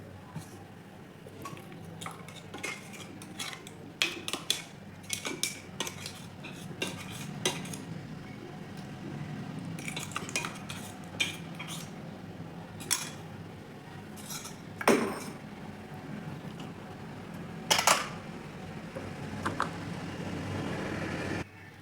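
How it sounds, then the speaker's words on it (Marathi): Blended bottle gourd mixture is scraped and spooned into a bowl, metal utensils clinking and tapping against the vessels in an irregular series of close, moderately quiet knocks. "हे आपण एका भांड्यात काढून घेऊ"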